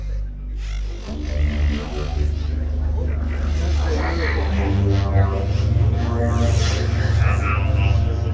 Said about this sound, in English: this is an example of a wavetable and FM synthesis at the same time